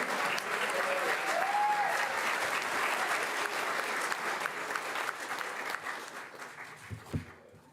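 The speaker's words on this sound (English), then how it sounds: "one more round of applause for everybody that got recognized today" A crowd at a school police swear-in and promotion ceremony claps loudly and steadily, then the applause thins and fades out over the last couple of seconds.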